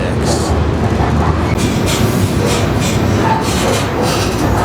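A freight train rolling along the rails, heard from aboard while trainhopping, a loud continuous rumble with rhythmic wheel clatter and faint metallic squeals throughout.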